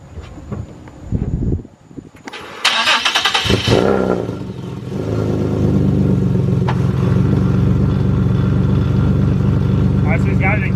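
A Chevrolet Corvette C7 Z06 engine on a lift cranks and catches, then settles into a steady, loud idle while in gear, with voices talking over it.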